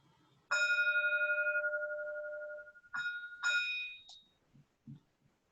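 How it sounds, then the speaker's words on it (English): A meditation bell at a Buddhist service rings with one loud strike and a long ringing fade, then two more struck tones follow, with a few faint knocks after. "So the bell takes us out of the meditation practice"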